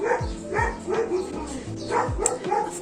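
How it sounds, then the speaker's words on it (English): Several dogs bark repeatedly in a steady, fairly loud run of woofs close to the microphone indoors, with a voice faintly present. "dogs are fucking barking when I'm filming"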